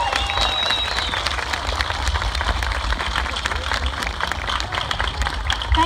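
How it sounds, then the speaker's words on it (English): A crowd applauds veterans at a 2016 singing event, steady mid-distance clapping with some cheering running throughout, a whistle-like tone briefly audible early on. "Can everybody give these people a huge round of applause?"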